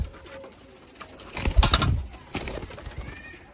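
Pigeons coo several times, soft and close, among the birds of a pigeon fancier's flock of flying pairs; a louder flurry of cooing swells in the middle, then a few quieter calls follow.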